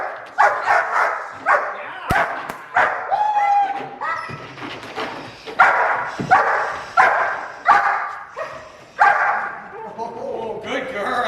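A protection dog barks in repeated sharp bursts during bite training, close and loud, with a person talking and encouraging it between and over the barks.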